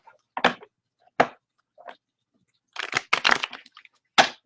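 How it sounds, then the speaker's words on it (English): Playing cards being shuffled during a psychic card reading, heard as a few short riffling bursts, close and crisp, separated by brief silences. "one more shuffle here"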